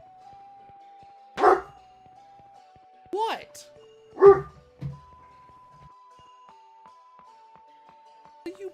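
A dog barks four or five times in short, sharp bursts spaced a second or so apart, with a person speaking nearby and a steady tone running underneath.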